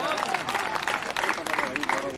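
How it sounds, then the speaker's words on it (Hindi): An audience at a Hindi kavi sammelan poetry gathering applauds, a steady wash of clapping that lasts throughout. A voice is also heard at moments. "जोरदार तालियां।"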